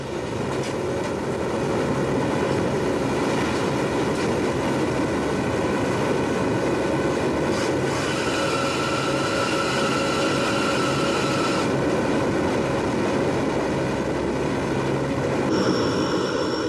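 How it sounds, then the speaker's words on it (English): A C-130 Hercules transport aircraft in flight, a loud, steady droning roar with a constant engine hum that holds evenly for the whole stretch, no speech. "The C-130s carry the supplies to forward deployed troops, landing them by parachute at more remote locations."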